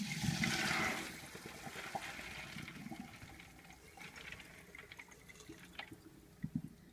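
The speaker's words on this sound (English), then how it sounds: "After you have chopped your vegetables, it's time to drain the lentils." Soaked lentils are drained, with a brief burst of pouring water at the start that settles into faint trickles and drips, close by and without talk.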